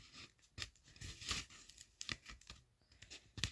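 Tape is ripped off a roll in a handful of sharp, quick tears and pressed onto a homemade masquerade mask. The sounds are faint and close, with brief crinkles between the tears and no talking.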